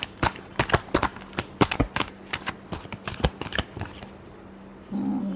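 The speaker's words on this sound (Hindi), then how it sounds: "Last shuffle." Tarot cards being shuffled by hand in a quick run of crisp, close riffling flicks and slaps for about four seconds, then a brief soft rustle as the deck settles.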